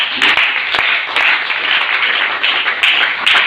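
A church congregation claps in thanksgiving to Jesus, with many hands striking in repeated, uneven bursts of moderate loudness and no talking over them.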